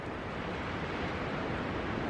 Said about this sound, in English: The wind is unbelievable.